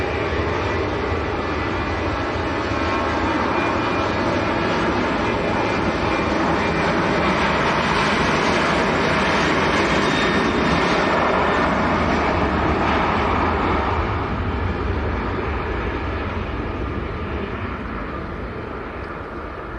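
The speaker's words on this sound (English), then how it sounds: "Ryanair next to go, 737-800" A Ryanair Boeing 737-800 departing Manchester Airport gives a loud, sustained jet roar that swells through the middle and slowly fades toward the end, with no talking.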